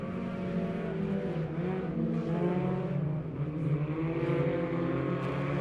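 Hornet class race cars in a heat race at Lebanon Midway Speedway, engines droning and revving steadily in the distance as the pack circles the track, with a constant layered motor roar.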